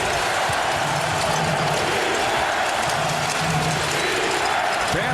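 Arena crowd at a Sacramento Kings home playoff basketball game, Game 7 against the Lakers, roars loudly and steadily, with a rhythmic defense chant rising under the noise and a sharp squeak near the end.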